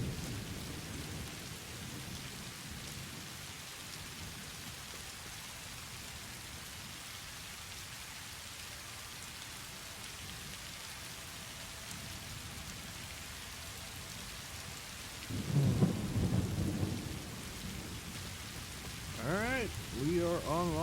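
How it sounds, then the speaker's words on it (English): A thunderstorm in the video game Satisfactory brings steady rain hiss throughout, with a loud rumble of thunder near the end and someone talking over it in the final seconds. "Ooh, good lightning."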